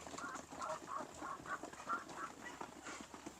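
Rhode Island Red chickens in a breeding pen cluck and call in a steady run of short, mid-pitched notes, close by and fairly quiet, with no talking over them.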